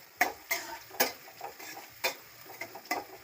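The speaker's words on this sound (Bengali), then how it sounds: "এগুলো আমি এবার ভাজি করে নিচ্ছি।" Green chili, bay leaf and onion frying in hot oil, with gentle background sizzling broken by several sharp ticks and taps at an uneven pace, heard close and without talk.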